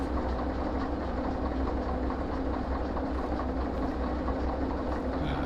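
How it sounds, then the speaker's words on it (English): Locomotive in the Derail Valley train simulator game starting to roll, a steady loud rumble of engine and rail noise with faint rhythmic clatter, continuous throughout with no talking. "Okay, so we'll get the train moving."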